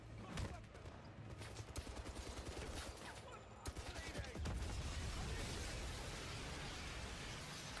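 Explosions and rapid gunfire from the video game 007 First Light, a dense, continuous barrage of bursts and blasts rumbling steadily throughout at low volume.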